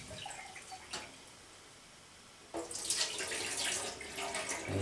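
Tap water runs into rice being rinsed for a rice cooker: a faint trickle first, then a louder steady gush of running water and sloshing grains from midway through. No talking.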